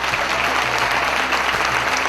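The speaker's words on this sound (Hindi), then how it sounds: "जोरदार ताली होनी चाहिए" An audience at a motivational business seminar claps loudly and steadily, a dense, continuous wash of close applause with no talk over it.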